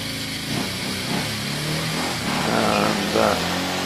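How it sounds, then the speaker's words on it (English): A 500cc hill climb racing car fitted with a pre-war JAP Speedway engine runs with a rough, throbbing single-cylinder note, revving up and down at moderate distance amid outdoor event noise. "This car began life with a Triumph GP engine, but it's using a Jap pre-war Speedway engine now to power it."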